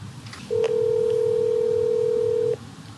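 A steady telephone tone sounds for about two seconds during a phone call to a motorcycle parts supplier, clear and alone, with a short blip just before it.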